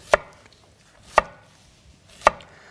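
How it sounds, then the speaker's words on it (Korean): Knife slicing zucchini on a cutting board, three evenly spaced crisp chops, close and distinct against a quiet background. "호박을 한번 썰어 보도록 할게요"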